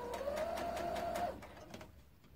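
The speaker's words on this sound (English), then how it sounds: "And then we are going to sew all the way round the top" A sewing machine runs along the top edge of an off-the-shoulder garment, a quiet rapid stitching whir with a steady hum for about a second before slowing and stopping.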